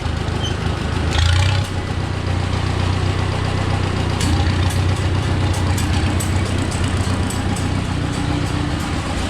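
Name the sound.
tractor engine idling at low RPM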